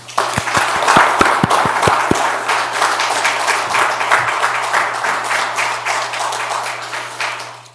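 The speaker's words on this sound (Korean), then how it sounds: "박수로 격려해 주시기 바랍니다" An audience of council members claps together during a session, a steady, full round of applause that holds evenly, then fades out at the end.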